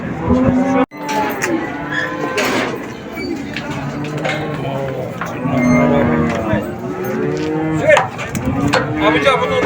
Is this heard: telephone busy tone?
no